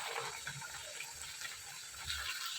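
Pea-filled kachori frying in hot oil give off a steady, soft sizzle and bubbling crackle that stays close and even, with no voices.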